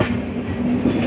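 The Diva Sawantvadi Express runs on the Konkan Railway track, a close, continuous rumble of train wheels and carriages heard from on board, with no talk.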